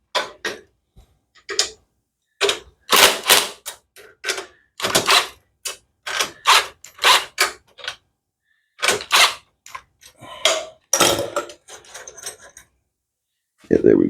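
Ratchet wrench loosening bolts on a go kart live axle, with repeated rapid clicking bursts and sharp metallic ticks in irregular groups, close and fairly loud, separated by short pauses.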